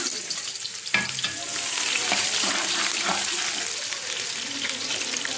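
Steady sizzling of a finely chopped onion frying in a cup of oil, with a soft clink of stirring near the start and continuous crackle afterward.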